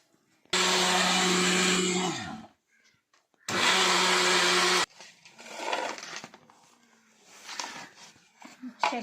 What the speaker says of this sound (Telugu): ఇది కూడా మిక్సీకే పడతా, పౌడర్ అవుతుంది.